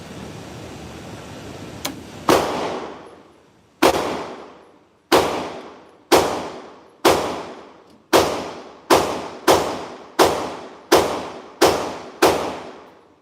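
Gunshots at an outdoor shooting range, about a dozen sharp, loud reports, each ringing out with a short decaying tail, fired in quick succession with a brief pause after the first shots and a steady rhythm later.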